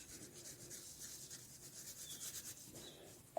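Soft, continuous graphite rubbing of an 8B pencil shading on paper, close and faint, with gentle rhythmic strokes and a small tap near the end.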